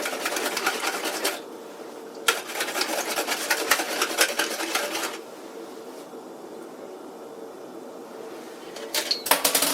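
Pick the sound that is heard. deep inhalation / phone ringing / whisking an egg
whisking an egg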